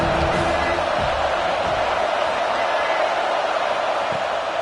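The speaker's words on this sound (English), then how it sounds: "how nice is it to have the home crowd going absolutely bananas?" A home crowd roars at a college football game between UCLA and USC, a loud sustained wash of stadium noise with a voice briefly over the top early on.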